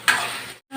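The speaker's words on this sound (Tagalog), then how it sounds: "Napiprito na siya." Food frying in oil in a pan while cooking menudo, a loud close sizzle that bursts in, fades, cuts out briefly and then resumes.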